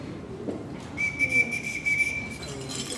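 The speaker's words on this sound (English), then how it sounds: "It's called the Oscar Mayer weenie whistle." A plastic Oscar Mayer weenie advertising whistle played as a short tune, thin high whistled notes in a few brief phrases, close and moderately loud, no talking.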